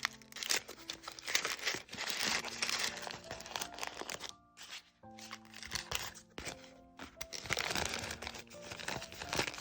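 Paper stationery packaging with a Singer sewing machine design is pulled open in close, continuous crinkling and crumpling with brief tearing, soft and intimate, pausing once before it resumes.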